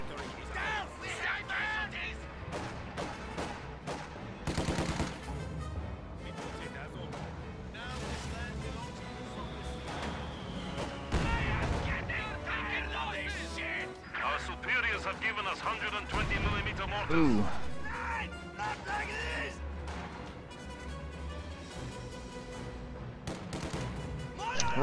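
Heavy mortar and anti-tank gun fire in a World War II strategy game, repeated booming blasts and sharp shots scattered across a busy battlefield, with a person talking throughout.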